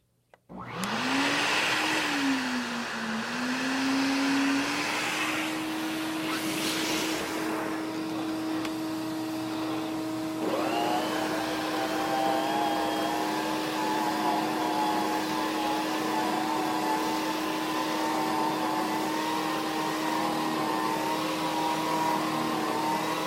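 An Electrolux Renaissance vacuum cleaner starts up and runs loudly and steadily nearby, its motor pitch rising as it spins up, then a higher whine joining partway through.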